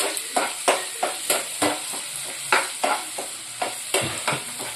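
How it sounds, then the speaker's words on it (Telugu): Prawn curry with tender tamarind fries in a pan, a steady sizzle broken by regular scraping strokes of a spoon stirring, roughly two per second, close and clear. "చూడండి ఫ్రెండ్స్, ఇట్లా బాగా వేగిపోతా ఉంది."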